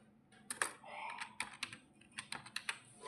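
Someone types data entries into Tally ERP 9 on a computer keyboard, with quiet, close keystroke clicks in short irregular bursts and no talking.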